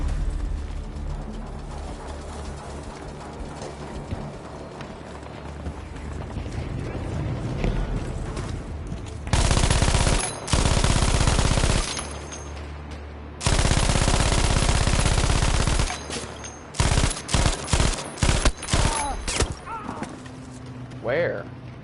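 A 7.57 Mauser rifle fires in the video game Payday 2: after quieter background, two long sustained loud bursts of automatic fire ring out, followed by a quick string of separate sharp shots.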